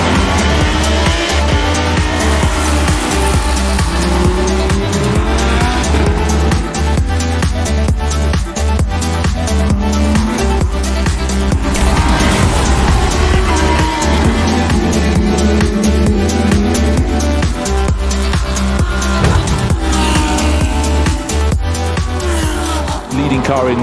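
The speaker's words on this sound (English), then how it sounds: "25 cars going around the track and some very, very tight racing there" Lamborghini Super Trofeo race cars circling the partly wet Circuito de Jerez in a 25-car field, engines droning loud and continuous with layered gear changes and overlapping passes throughout.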